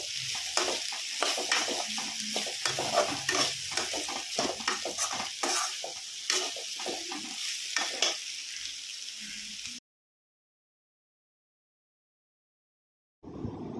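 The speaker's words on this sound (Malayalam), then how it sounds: "എന്നിട്ട് വീണ്ടും ഒന്ന് ഇതുപോലെ തന്നെ ഇളക്കി" Okra sautéing with salt in a pan is stirred briskly, repeated scrapes over a constant sizzle for about ten seconds, then a silence before the sizzling briefly returns.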